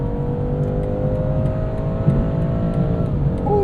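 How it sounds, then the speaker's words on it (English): A 2021 BMW 430i Convertible's turbocharged four-cylinder engine pulls steadily under acceleration with the roof up, its rising drone holding through a long gear with tire and road rumble underneath. "Let's see what this thing sounds like with the roof up."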